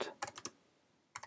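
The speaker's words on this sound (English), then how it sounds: "And you want to type sudo apt" Fingers tapping out a terminal command on a computer keyboard, a quick burst of four or five close key clicks, a short pause, then two more presses.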